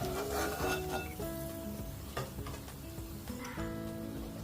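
Onions, green chilies and tomatoes sizzle steadily in leftover hot oil, a close, continuous frying crackle with occasional stirring scrapes and no talking.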